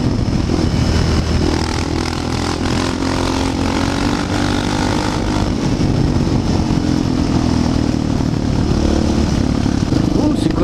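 Yamaha TTR 600 supermotard motorcycle engine running loud and steady at close range for the whole stretch, with a voice talking over it.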